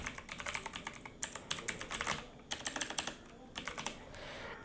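Steady typing on a computer keyboard, quick clusters of light key clicks with short pauses between words, close and fairly quiet.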